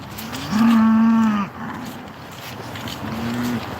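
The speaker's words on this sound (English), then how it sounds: "Oh, just the cows." Cattle moo outdoors along a morning walk: one loud, long low moo, then a second fainter, shorter moo a couple of seconds later, over light outdoor background noise.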